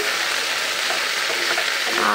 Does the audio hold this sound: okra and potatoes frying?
yes